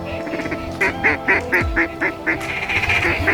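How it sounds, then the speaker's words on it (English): Mallard ducks quacking on a Kansas duck hunt, a steady series of evenly spaced quacks about every quarter second, moderately close, over low outdoor background noise. "Bunch of ducks."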